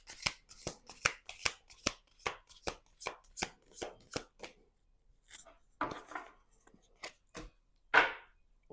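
Tarot cards shuffled in a quick run of about a dozen crisp riffling flicks, then a pause and a few slower, louder slaps and a final sharp card snap, close and alone with no talk.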